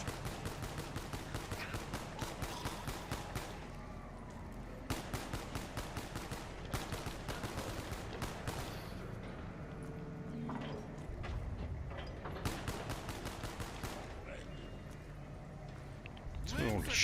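Rapid bursts of shotgun and automatic gunfire from an arcade video game, loud and dense in several volleys with short pauses between them, with game music and effects underneath.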